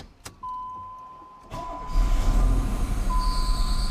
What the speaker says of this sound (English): here you're going to see the first attempt to start the car after we primed it with the new